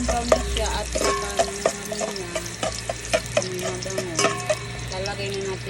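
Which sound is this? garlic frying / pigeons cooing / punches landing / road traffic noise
garlic frying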